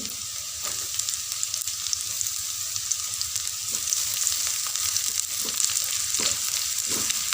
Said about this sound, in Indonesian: tumis hingga bawang putihnya juga ikut menguning sampai mengeluarkan wangi